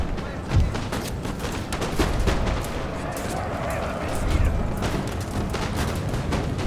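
Musket volleys from Young Guard infantry in the video game Napoleon: Total War, multiplayer battle at Waterloo: repeated crackling shots and booms layered into a dense, continuous battlefield din with talk over it.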